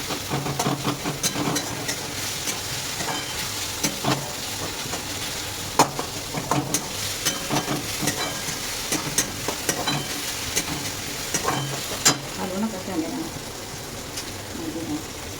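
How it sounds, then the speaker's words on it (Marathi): Tomatoes frying in a hot pan for egg bhurji, a steady close sizzle with repeated scraping and clinking strokes of a spoon stirring throughout, no speech over it. "मीठ थोडंसं आधी टोमॅटो घालून घ्यायचं, म्हणजे टोमॅटो चांगला मऊ होतो, मऊ शिजतो टोमॅटो"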